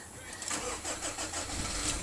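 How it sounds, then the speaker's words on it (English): A Subaru Legacy diesel car engine cranks and fires up, a busy mid-range mechanical clatter with a steady rhythmic churn at close range, moderately loud throughout. "In fact, we'll start this car up."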